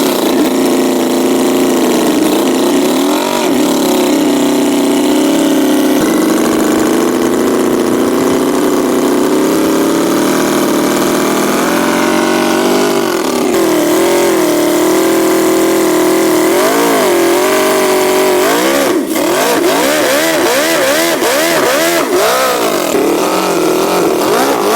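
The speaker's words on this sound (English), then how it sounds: "Check out this handcrafted 76 cubic centimeter V8 Nitro engine, a tiny overhead cam marvel with 4 horsepower" A handcrafted 76cc V8 nitro model engine with overhead cams and 4 horsepower, spinning near 6,000 rpm, runs loud and close for the whole stretch, a steady buzzing drone whose pitch wavers and surges slightly.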